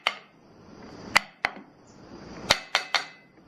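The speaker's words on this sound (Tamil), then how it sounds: "இப்போ இந்த கப்பு எல்லாத்தையும் இந்த மாதிரி டேப் பண்ணி விட்டுக்கலாம்." Cups of batter tapped on a kitchen counter, five sharp knocks in an uneven rhythm, close and fairly loud, with quiet gaps between them and no talking.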